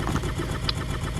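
A car engine starting up and running at a steady mid-pitched idle, close and continuous for a brief moment with no talk over it.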